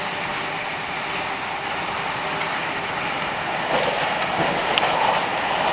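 Sydney Trains S set rolling along the rails, a steady close-up rumble of wheels and carriage noise heard from inside, with a faint brief squeal near the end.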